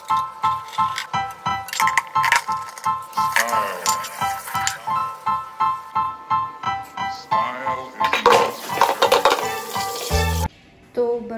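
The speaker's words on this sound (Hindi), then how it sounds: "तो अब मैं ये गाने सुनते सुनते बर्तन मांजती हूँ।" Dishes, pots and pans are scrubbed and washed by hand in a home kitchen, with steady rhythmic rubbing strokes repeating close by while music plays in the background.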